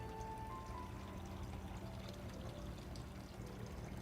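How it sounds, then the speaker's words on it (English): A backyard garden water fountain pours and splashes steadily, a continuous close-up stream of falling water with no voices over it. "listen to the relaxing sound of the water fountain"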